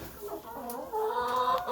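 A flock of about fifteen laying hens clucks in a short burst of overlapping, murmuring calls, fairly close and steady, with no talk.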